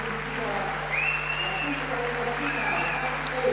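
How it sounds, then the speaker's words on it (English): An arena audience in Wels, Austria applauds the winner of a table tennis final, with dense, steady clapping that holds at an even level while a commentator talks over it. "Being applauded by the audience here in Wels, Austria."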